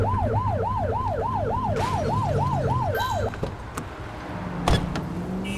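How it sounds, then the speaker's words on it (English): Police car siren in The Precinct game wails in a fast, regular up-and-down cycle for about three seconds, then cuts off, leaving engine rumble and a few sharp clicks. "Get behind them and flip the siren to make them pull over."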